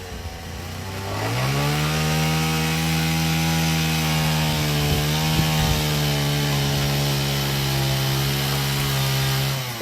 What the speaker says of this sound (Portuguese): uma motosserra ali.